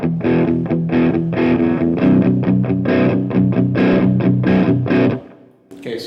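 Electric guitar played through a Marshall MG100HCFX amp on its crunch channel, with no effects engaged: strummed, lightly distorted chords in a choppy rhythm for about five seconds, loud and close, ending in a brief pause.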